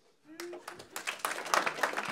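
Audience applause in a live comedy show, scattered claps starting thin and building into fuller clapping over a couple of seconds, with a brief voice at the start.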